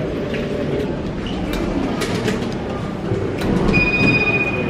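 Paris metro train rumbling steadily through a station or tunnel, a constant low roar with faint clanks and a brief high tone near the end, heard up close.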